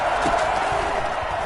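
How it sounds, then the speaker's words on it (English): Crowd noise at an American football game as the Titans come up on a big third down, a dense steady roar of cheering from a large stadium crowd, even and sustained throughout with no clear peaks. "the crowd getting into it as we come up on a big 3rd down"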